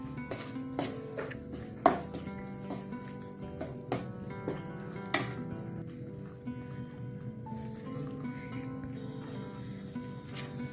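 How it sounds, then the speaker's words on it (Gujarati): Adadiya paak mixture roasting in ghee in a pot on a medium gas flame: a steady soft sizzle with occasional clinks and scrapes of a spoon stirring, no talking. "ગેસની ફ્લેમ મીડિયમ રાખી અને શેકવાનું। આ રીતે હલાવતું રહેવાનું।"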